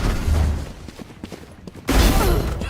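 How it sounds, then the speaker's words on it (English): A smoke launcher fires in a military shooter game with rapid gunfire crackling around it; a sudden loud, broad burst lands near the end over the ongoing shots. "Launching smoke."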